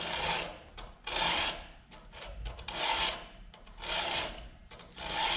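A hand file rasps across a chainsaw chain's cutters in repeated rhythmic strokes, about one per second, scratchy and close with no talk.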